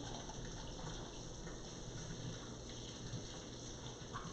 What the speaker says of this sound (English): let me wash my hands really quickly